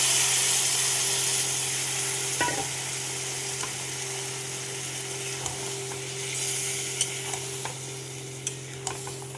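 Marinated chicken sizzling and frying in a pan with already fried onions, with steady loud hiss and scraping stir strokes throughout, no talk.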